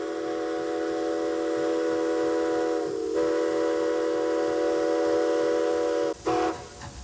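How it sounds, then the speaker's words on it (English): Steam whistle of White Pass and Yukon narrow-gauge railroad Steam Engine 73, pulling vintage parlor cars, sounds one long steady loud blast with a brief break near three seconds, then a short final toot. "Steam Engine 73 pulls the vintage parlor cars through town"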